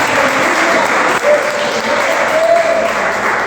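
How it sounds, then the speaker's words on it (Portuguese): A church congregation applauds during a worship service, a loud, steady wash of many hands clapping together that fills the whole stretch without pause. "Você pode aplaudir ao Senhor na paz."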